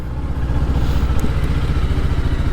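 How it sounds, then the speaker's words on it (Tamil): A Kawasaki Ninja H2 motorcycle idles during warm-up, its engine throbbing in a steady, even pulse, loud and close, with no other sounds over it. "ஸோ வண்டி வந்து வார்ம் அப்பில் இருக்குது."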